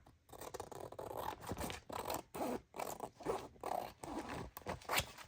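Scissors cutting across the top of a gel print on paper, a close, quiet run of rhythmic snipping and scraping strokes, about a dozen in quick succession.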